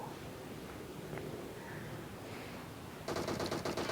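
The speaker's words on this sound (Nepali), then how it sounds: "फेरि पनि उपदेशले डिपीको स्प्रे हानेर अरसलाई ड्यामेज दिएका छन्" Quiet ambient noise, then near the end a sudden rapid burst of automatic fire from a DP gun in a video game rattles loudly.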